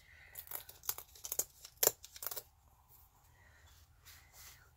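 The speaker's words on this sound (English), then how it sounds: "I need to tear this edge too." Paper edge being torn along a WRMK tear ruler for collage, a quick burst of close, crisp ripping and crinkling strokes that fades into quiet rustles.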